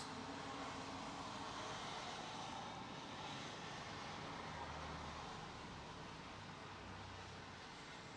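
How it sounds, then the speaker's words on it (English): A British Airways Airbus A380 on the runway at London Heathrow gives a steady, broad engine roar with a low rumble, loud and constant throughout, with no voices. "British Airways A380 is on the runway, that's this one"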